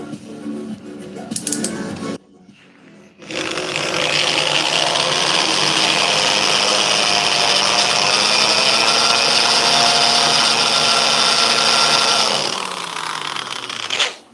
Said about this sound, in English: do a little drilling here